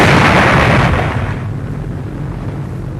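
A bomb blast in a World War II drama about the plot against Hitler: a loud, broad rumbling boom that decays into a long, low roar over three seconds, with no voices.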